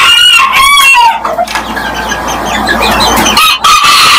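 A loud, busy flock of chickens clucks and squawks continuously up close, with a crow rising at the start and overlapping calls throughout.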